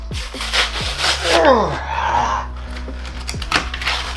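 Hands rubbing and scraping a Pokémon Sun and Moon plastic blister pack on a surface: loud, close, continuous rasping friction with a few squeaky swipes.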